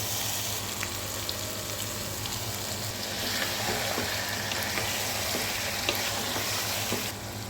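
Beef being added to a pan of hot oil and softened onions for a biryani, sizzling and frying in a steady, dense crackle with small pops and stirring sounds, close and alone without talk.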